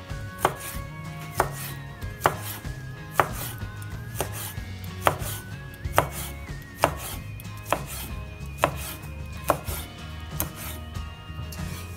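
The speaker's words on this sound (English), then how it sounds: "I got a squid tubes, it's cleaned already. Now we're going to slice them very thinly." A knife thinly slicing cleaned squid tubes on a cutting board, in a steady series of crisp chops roughly once a second, close and clear, over faint background music.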